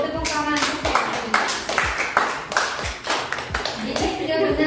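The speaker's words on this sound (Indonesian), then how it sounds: "Tepuk tangan untuk Feby" A classroom of students clapping for a classmate after a maths answer, a close, loud burst of many hands with rhythmic claps standing out in the mix, voices audible beneath.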